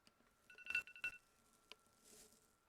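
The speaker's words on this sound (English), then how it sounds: "Oh god, my phone's ringing" A phone alarm rings in short tonal bursts, a few quick electronic chirps followed by a lone beep, fairly faint and set against quiet background.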